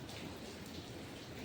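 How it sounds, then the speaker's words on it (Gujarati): Heavy rain pours down steadily outdoors, a dense, even hiss of falling water close by with no pauses, during a downpour that has flooded the area in front of the houses. "એટલો બધો વરસાદ, બહુ જ વરસાદ પડી ગયો."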